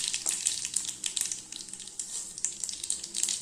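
Mustard seeds sizzle and crackle in about two spoons of hot oil in a pan, the start of a tomato pickle, with a close, steady hiss broken by quick pops and no talking.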